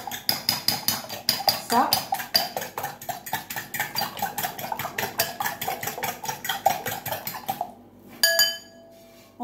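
Egg mixture with a little vinegar whisked briskly in a bowl, a steady fast clinking rhythm of utensil against the bowl, with a voice speaking briefly over it and a short pause near the end.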